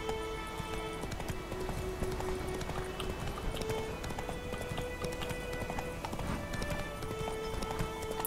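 Horse hooves clip-clop steadily at a gallop in The Witcher 3 video game, a continuous rhythmic pounding with game music and ambience throughout, no talk.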